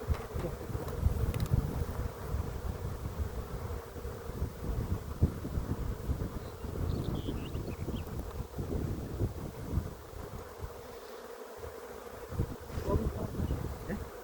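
A strong honey bee swarm with its queen drones at the hive in a dense, continuous buzz. Gusts of wind rumble against the microphone underneath.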